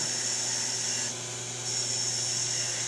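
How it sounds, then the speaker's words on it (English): A homemade gouge cuts into wood spinning on a lathe while a Tibetan spindle is shaped, giving a steady, loud, continuous whirring hiss with a brief dip in the middle. "we're going to come in with my little homemade scoochy gouge, and we're going to start the details"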